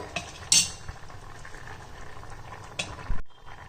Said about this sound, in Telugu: పప్పు ఎంతవరకు వచ్చిందో చూద్దాం ఇదిగోండి అంటే మూడు వంతులు ఉడికింది